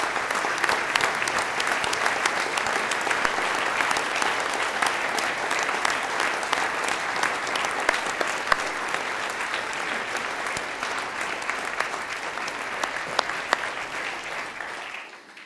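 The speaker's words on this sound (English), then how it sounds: "A big round of applause for this team." Sustained audience applause fills a conference hall at a corporate global summit, greeting the Proceq and Tecto Streamlab team. The dense clapping stays steady and loud for about fifteen seconds, then tapers off at the very end.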